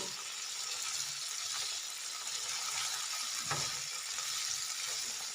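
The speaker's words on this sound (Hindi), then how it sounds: "ज़ीरे के साथ हल्का सा रोस्ट करेंगे इसको।" Soft continuous sizzling and crackling of cumin roasting in a pan over low heat, with occasional light stirring scrapes, low and steady.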